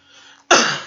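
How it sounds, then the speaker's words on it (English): A single sharp cough bursts out close to the microphone after a brief quiet moment, from someone playing a bowling game. "Excuse me for coughing."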